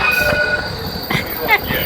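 A passing tram close by: loud rolling rumble with squealing wheels on the rails and a brief horn-like tone, all within a couple of seconds.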